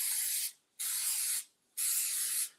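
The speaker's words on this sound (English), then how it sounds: "So we're going to go with the cooking spray" Three quick bursts of cooking spray hiss onto the top and bottom plates of a waffle iron before chocolate protein-powder batter goes in, each puff about half a second long, close and steady.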